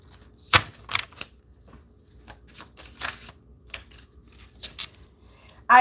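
Tarot cards shuffled by hand, with a string of papery riffles and slaps in an uneven rhythm, close and fairly quiet, with no speech.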